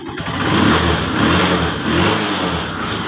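A TMX Alpha motorcycle engine, fitted with a new stator and hard to start, catches on one kick and revs, running loud and close with a steady rough idle that swells twice over a few seconds.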